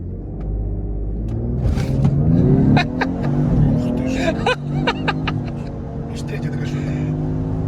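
Tuned Lincoln Aviator, a stock car being tuned toward 500 hp, accelerating hard through its gears, a loud rising engine roar heard from inside the cabin, with people talking and reacting over it.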